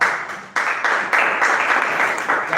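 Sustained applause from an audience at a Toastmasters club executive committee installation ceremony, a dense, steady clapping that swells after a brief dip and carries on without pause.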